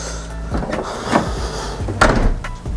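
A Mk3 Toyota Supra door with a faulty mechanism is worked open and shut with a couple of solid thuds and creaks, close by, without any talking.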